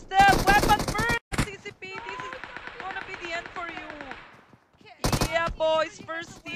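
Gunfire from PUBG Mobile during a tournament match, with rapid bursts of automatic shots coming in loud clusters between excited commentary.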